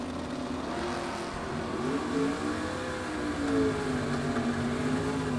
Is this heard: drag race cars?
yes